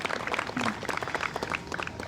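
Applause from a crowd at an outdoor survivor-support opening ceremony, honoring the local fire and police departments: dense, steady clapping for about two seconds at moderate loudness.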